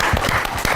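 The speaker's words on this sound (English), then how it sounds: "Clap for that." Brief burst of audience clapping at a live televised courtroom-style show, a loud, dense patter of many hands lasting under a second.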